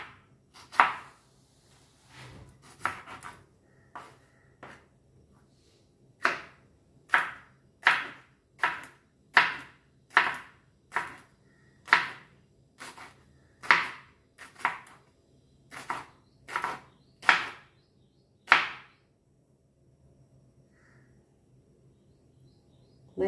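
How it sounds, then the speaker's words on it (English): Fresh jalapeno peppers chopped with a knife on a cutting board: about a dozen and a half crisp, evenly spaced strikes, close and clear, then stopping near the end. "So chop all this nicely."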